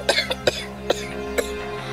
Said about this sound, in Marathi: अरे सकाळधरण तो खोकला येतोय